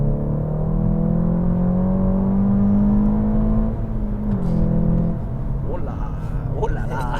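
A Seat Leon Cupra R Limited Edition (311 hp) in third gear holds a strong engine tone that rises steadily, then drops away as the driver eases off. Someone talks over the last seconds.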